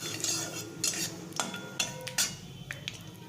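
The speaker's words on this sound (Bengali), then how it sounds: "এখন আমি চিনেবাদামটাকেও ভেজে নিচ্ছি।" Peanuts frying in oil in a pan for Bengali-style chira pulao, heard as repeated sharp metallic clinks and scrapes of a utensil against the pan over a faint background, without speech.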